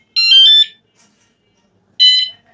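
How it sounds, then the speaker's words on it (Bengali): An ANTUSI A8 Pro bicycle tail light sounds its lock alarm: a loud, shrill electronic tone for about half a second, a pause, then a second shorter beep, both clear in silence. "দেখুন প্রথমে কিন্তু একটু লাউড হর্ন হলো এবং তারপর একটা বিপ হলো"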